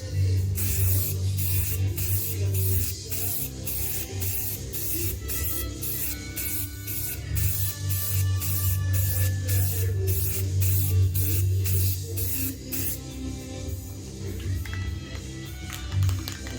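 Spray paint hisses onto the plastic plate holder trim of a Jeep Wrangler TJ in a series of rapid short bursts, loud and close, with a steady low hum underneath.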